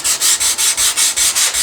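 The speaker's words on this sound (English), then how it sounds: "I'm going to sand off all the other marks I don't need." Wood is sanded by hand during gunsmithing work, a loud, close rasping of about nine even back-and-forth strokes in a quick, regular rhythm.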